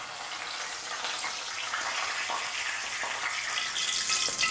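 Curry leaves fry in hot oil, making a continuous close hiss and crackle with no talking.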